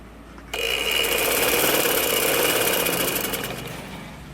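A sewing machine runs steadily for about four seconds while stitching the straight seam of a gents' shalwar, starting abruptly with a loud, continuous mechanical whir and no voices.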